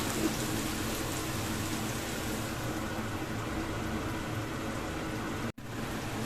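Potatoes frying under a lid in a covered pan, with a steady, even hiss and sizzle like light rain that runs throughout and is briefly cut near the end.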